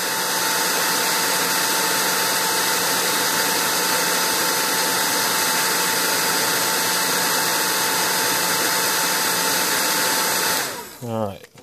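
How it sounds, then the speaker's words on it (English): A 1200-watt heat gun runs on its high setting while a Teac A-2340 reel-to-reel tape deck is being serviced. It gives a loud, steady blowing whir for about ten seconds, then cuts off and winds down. "This is a 1200 watt heat gun on a high setting."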